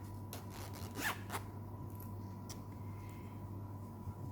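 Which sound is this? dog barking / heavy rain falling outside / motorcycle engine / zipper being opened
zipper being opened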